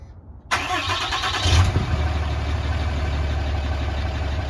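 After a brief silence a Ram 2500 truck engine cranks and catches, then settles into a steady, low idling rumble from a Magnaflow 5-inch filter-back exhaust, fairly close and loud.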